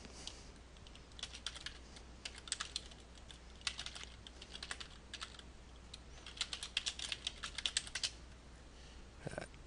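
Rapid, uneven keystrokes on a computer keyboard, entering a new name for a cutscene in a game cutscene editor; close and clear, in bursts with short pauses and no voices.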